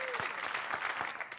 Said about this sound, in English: Round of applause for Beverly.